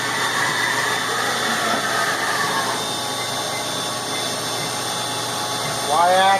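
A Haas VF-2 milling machine traverses along its X-axis, a steady mechanical whir and hum over constant machine noise, ending with a brief rising whine as the move finishes.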